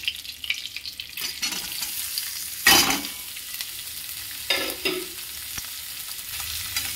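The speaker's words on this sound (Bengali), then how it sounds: "দিয়ে এটা ভালো করে নাড়াচাড়া করে নেব" Chopped onion and whole cumin frying in oil in a home kitchen pan, with a steady sizzle broken by louder scraping stirs at about 2.7 and 4.6 seconds.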